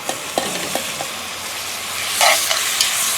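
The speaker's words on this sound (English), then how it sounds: "now we're going to add our diced tomatoes and green chilies in here" Diced tomatoes and green chilies go into a frying pork and pepper stew on a Weber kettle grill, a steady close sizzle broken by a few soft stirring scrapes, with the sizzle swelling louder near the end.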